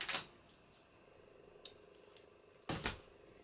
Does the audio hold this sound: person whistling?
no